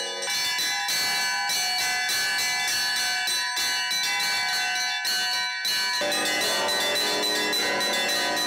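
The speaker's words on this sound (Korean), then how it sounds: "화음을 이루며 울리는 종소리가 유주노 사할린스크의 밤하늘에 퍼진다." A massive 6.5-ton church bell named Sakhalin rings at night in Yuzhno-Sakhalinsk, Russia, struck by a priest, its loud, sustained metallic tones layering into harmony with repeated strikes swelling and ringing on without pause.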